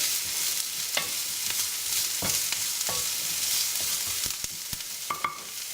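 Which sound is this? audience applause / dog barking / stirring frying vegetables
stirring frying vegetables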